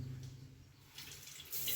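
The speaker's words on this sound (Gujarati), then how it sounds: "તો જો આપણે ફુવારો ચાલુ કરીએ" Water bursts from a newly fitted bathroom shower in a village house, fed from a filled water tank, surging in loudly near the end after a quieter stretch with a low background hum.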